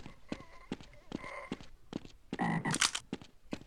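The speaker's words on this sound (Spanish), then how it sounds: "Oh, una rana" Frog croaking in the Half-Life mod Azure Sheep, a run of rough, irregular croaks and clicks in uneven bursts, fairly close and moderately loud with no talking.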